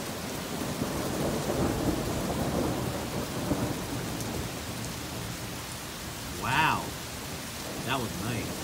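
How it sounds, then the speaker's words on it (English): Steady rain pours through a thunderstorm while deep thunder rumbles roll underneath, swelling louder near the end. "Here we go, another lightning."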